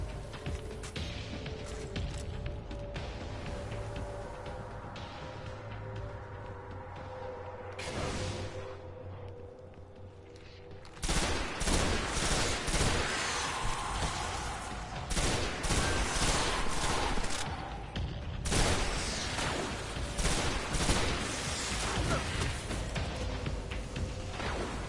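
A fusion rifle fires in the video game Destiny, with a mechanical charging whir followed by loud sustained bursts of rapid energy shots that return after a brief lull.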